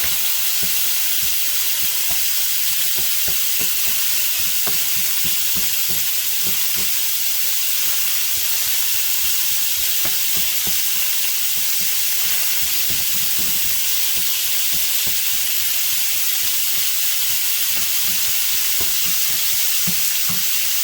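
Beef sears in a pan for beef stroganoff, a loud continuous sizzle with frequent soft knocks and scrapes as a wooden spoon stirs the chunky meat, close up and without voices.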